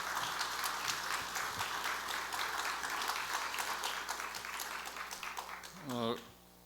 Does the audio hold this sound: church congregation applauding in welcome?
yes